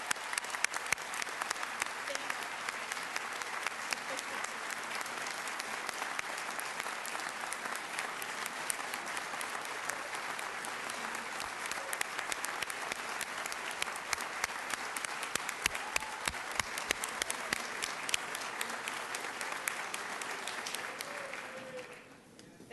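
Long, steady round of applause from a large audience at the 2017 Fisher College commencement, many hands clapping evenly throughout before fading out at the end.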